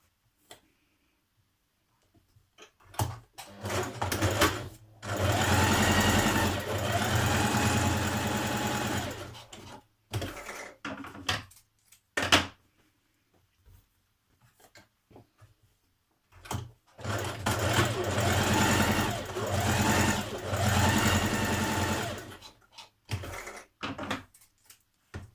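A sewing machine stitches the side back pieces of a dress to the back pieces, running in two long steady bursts of about five seconds each, separated by short clicks and pauses.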